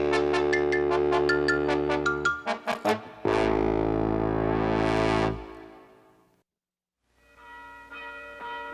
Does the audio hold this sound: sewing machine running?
no